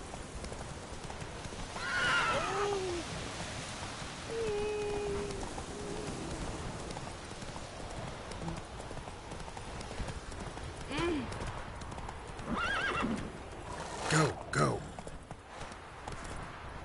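Horse Roach in a video game, galloping with hooves clip-clopping while whinnying calls break through, set against falling rain; a player speaks briefly over the scene.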